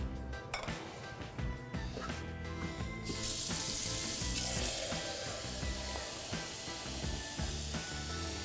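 Six cups of water run from a tap and pour into a pan holding two cups of millet, a steady close hiss and splash with a few light clinks, starting a few seconds in.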